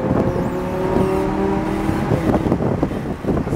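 A Lamborghini Huracan engine roars and accelerates on a track, loud and sustained with a rising whine, heard close from inside the car.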